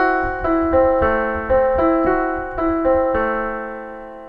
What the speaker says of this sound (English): Dorian sounds like this